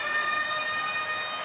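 A sustained siren blares at the end of the half in a rugby league match between the Knights and the Sharks, a loud steady wailing tone with crowd noise beneath.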